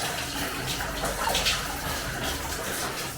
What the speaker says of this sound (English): this is where the water is, guys. And it is coming down from up in the